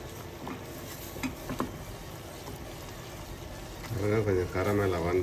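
Sugar cooks to a brown caramel in a pan while being stirred, soft scraping and faint bubbling sizzle close by, with a voice talking over it near the end.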